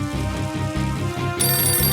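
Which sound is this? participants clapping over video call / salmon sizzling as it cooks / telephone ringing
telephone ringing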